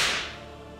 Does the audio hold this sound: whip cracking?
yes